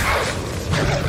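A Levioso spell is cast in Hogwarts Legacy, giving a brief, loud swooshing whoosh with a mechanical rumble beneath it.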